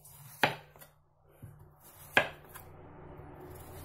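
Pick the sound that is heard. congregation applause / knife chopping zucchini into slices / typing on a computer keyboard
knife chopping zucchini into slices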